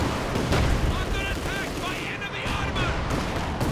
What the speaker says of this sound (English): Katushka bomb.